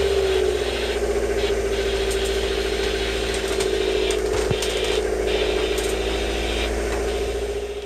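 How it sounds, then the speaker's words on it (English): A boat engine drones steadily with a low, constant hum and vibration during the 2017 Fastnet race, with occasional faint knocks and creaks in the background. "Until somebody turned the engine on and spoiled it all"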